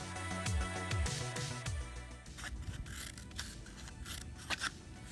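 Scissors snip close by, cutting a series of small strips into a cardboard toilet paper roll, with quick crisp cuts and light scraping of the cardboard, and no voices.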